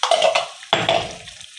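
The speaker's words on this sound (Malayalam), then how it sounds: "ജാറ് കഴുകിയ വെള്ളം ഞാൻ ഇതിലോട്ട് ചേർത്ത് കൊടുക്കുകയാണ്" Water used to rinse a grinder jar is poured into Kerala-style inji curry made with roasted coconut, two short, close splashing pours, the second trailing off into a soft trickle.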